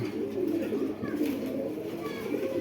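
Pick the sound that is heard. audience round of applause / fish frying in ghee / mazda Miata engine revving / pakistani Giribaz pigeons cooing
pakistani Giribaz pigeons cooing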